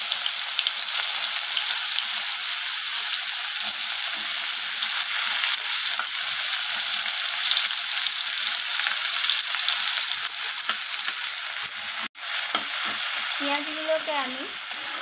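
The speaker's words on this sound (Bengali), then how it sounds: "প্রথমে কেটে রাখা পেঁয়াজগুলোকে দিয়ে দেব" Chopped onions sizzle and crackle in hot mustard oil in a pan while being stirred. The frying hiss is continuous and close, with a few scraping stirs and a brief clunk near the end.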